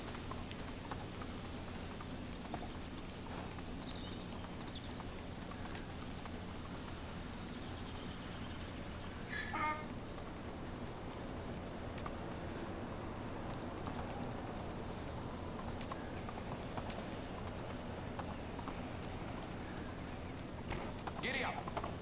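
A donkey's hooves clip-clop steadily in a medieval video game, a continuous walking rhythm under low ambient noise with occasional small in-game sounds.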